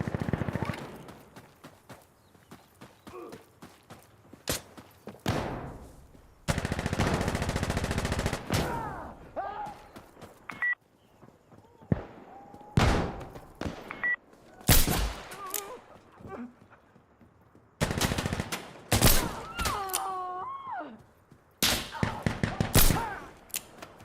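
Gunfire in Insurgency Sandstorm comes in repeated loud automatic bursts and single shots, with quieter gaps and a voice speaking in between.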